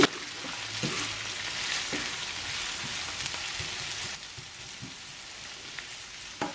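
Curry leaves, pandan and small pieces of Maldive fish fry in oil for a brinjal sambal. A close, hissing sizzle runs throughout with scattered pops and light stirring, easing slightly toward the end, and no one speaks.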